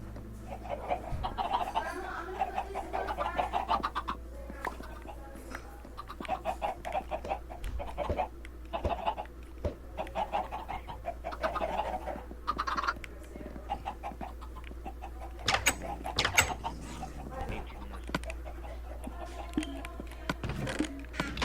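Quiet, repeated clucking from Minecraft chickens over a steady low hum, the short calls scattered irregularly with faint voices now and then.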